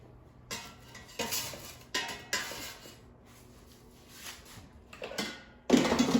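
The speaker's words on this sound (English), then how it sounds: "Now I'm going to remove them from the air fryer." Frozen tamales come out of an air fryer with a string of clattering knocks of metal and tableware, sharp bursts spaced through quiet gaps and ending in a louder clank.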